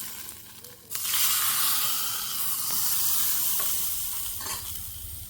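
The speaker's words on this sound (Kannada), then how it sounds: "ಈಗ ಇದನ್ನು ತಂಬಳಿಗೆ ಸೇರಿಸ್ಕೊಳ್ತೇನೆ" Hot ghee tempering with cumin is poured into a green herb tambuli and sets off a sudden loud, steady sizzle and hiss that slowly fades, with no talking.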